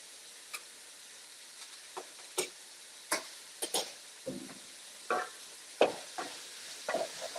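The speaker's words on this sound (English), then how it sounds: "I'm going to give this a nice stir. And we're going to toast these spices with this heat" Cumin and coriander seeds stirred and toasted in a hot pan, heard as scattered sharp clicks, taps and scrapes of the utensil, close up over a faint steady background, with no speech.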